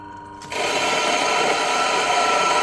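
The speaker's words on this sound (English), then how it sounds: "So now that the grinder is turned on, we're ready to run some beans through it." An ECM Automatik 64 coffee grinder starts grinding beans half a second in, a loud, steady, dense whirring roar that holds unbroken to the end.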